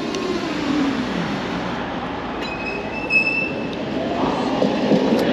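A tram passes close by in the opposite direction on a Sofia street line near the Geo Milev bus station, with a loud steady rumble of wheels on rail and faint high squealing tones. No one talks.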